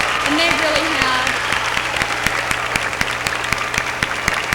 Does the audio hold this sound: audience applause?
yes